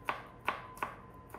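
Kitchen knife slicing and mincing garlic on a cutting board: four crisp, evenly spaced chops in a steady rhythm, close and fairly quiet, with no talking.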